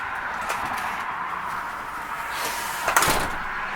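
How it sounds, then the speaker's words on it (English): A house front door opens with a soft creak, followed by a louder clunk near the end, heard close by with no talking over it. "let's go out the front door"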